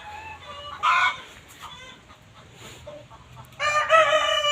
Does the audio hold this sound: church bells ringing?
no